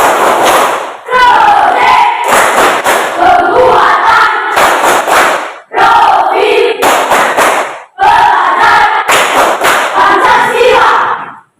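Classroom students perform the Pancasila profile clap chant together: loud, rhythmic bursts of group clapping and shouted chanting in several phrases, broken by short pauses, close and energetic.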